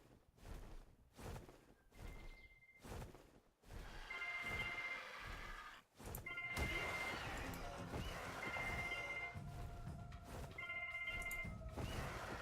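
A telephone rings in repeated electronic bursts under continuous video game sound effects and rumbling background noise, the ringing clear and moderately loud.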